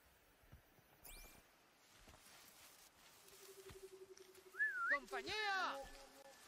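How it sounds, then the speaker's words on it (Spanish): A person whistles in a video game, Horizon Zero Dawn, with a few rising and falling tones to call a companion, mixed with soft game sounds and footsteps, fairly faint overall. "Simplemente te he silbado."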